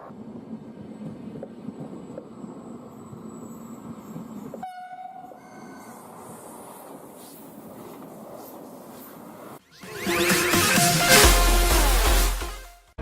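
An AGV Italo high-speed train from Italy passes by. A quieter rolling rumble and a brief horn-like tone give way to a loud roaring rush of wind and wheels that cuts off abruptly.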